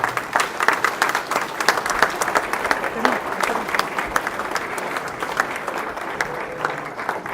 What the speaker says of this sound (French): je vous demande d'applaudir Nathalie Duguin et toutes les bénévoles du Livre Nomade